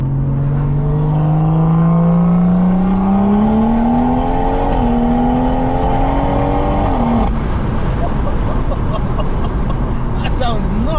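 A stage 3 big turbo BMW M140i hatchback with a power valve back box exhaust revs close by, a loud rising engine note climbing steadily before cutting off into a rumbling, crackling idle, with people talking over it.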